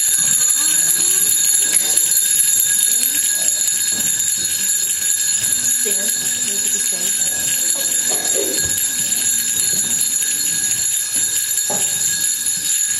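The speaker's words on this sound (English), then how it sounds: "Let us ring the bells of Christmas." Christmas bells rung by a congregation during a pageant: steady high ringing and jingling hold throughout, with scattered room noise and faint voices beneath.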